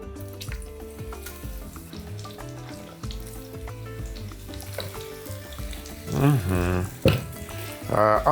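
Sliced quince frying in melted butter in a pan, with a steady sizzle that swells louder toward the end amid clinks of utensils and background music.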